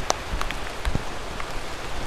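Heavy rain pattering steadily on surfaces in a garden of old mai trees, a constant close wash with scattered louder drips and no talk.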